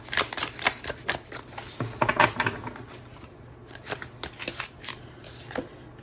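Oracle cards are shuffled close by in a quick series of crisp riffling flutters and soft slaps, irregular and fairly quiet over several seconds.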